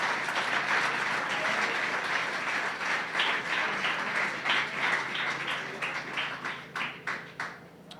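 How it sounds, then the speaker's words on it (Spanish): A church congregation applauds during a Sunday sermon, dense sustained clapping that fills the room and then thins into fewer, separate claps toward the end. "Dale un aplauso al Rey de Gloria."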